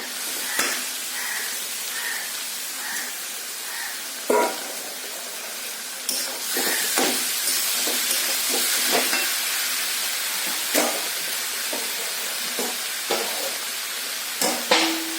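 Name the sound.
boiled jackfruit added to sizzling masala in pan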